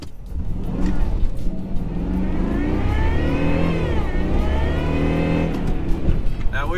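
A supercharged V8 Jaguar S-Type R making about 400 horsepower accelerates hard on a public road with its wheels spinning, the engine pitch sweeping upward in a loud, sustained rising roar heard from inside the car.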